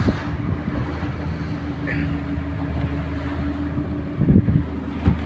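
A boat's engine drones steadily while moving over water, with wind buffeting the microphone and occasional splashes near the end.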